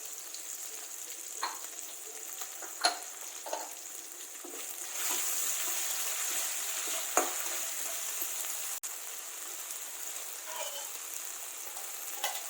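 Ginger garlic paste frying in a pan for tomato millet rice, a soft steady sizzle with occasional stirring taps and a brief louder hiss in the middle.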